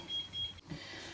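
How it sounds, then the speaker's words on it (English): Electronic alarm from a lamp's built-in clock beeps in two steady high-pitched bursts, fairly loud and close, then stops, leaving quiet room noise. "and it's got a built-in clock on it, and it's got this random alarm that goes off"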